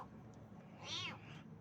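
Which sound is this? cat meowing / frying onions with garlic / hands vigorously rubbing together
cat meowing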